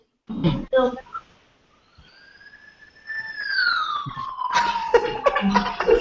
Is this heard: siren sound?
yes